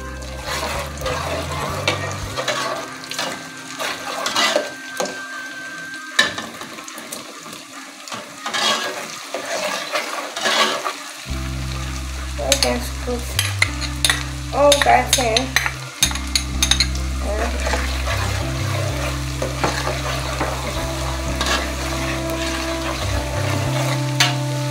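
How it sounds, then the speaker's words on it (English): Iru, fermented locust beans, frying in a pot for Nigerian efo riro vegetable soup, with steady sizzling and intermittent stirring and scraping throughout, fairly loud and close, no voices. "I like to go in and fry my iru first."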